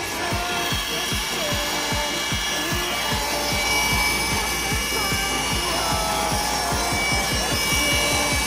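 Handsaw cutting through wood for a homemade sound box, with steady back-and-forth strokes in a fast, even rhythm, loud and close, with no talking.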